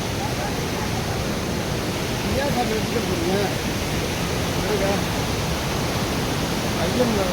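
Masila Falls in the Kolli Hills, India, roars with a steady, dense rush of water that stays constant throughout.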